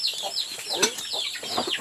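A chicken in rural South Palawan, Philippines, clucking repeatedly in quick, scratchy bursts close by, with a brief human voice in between.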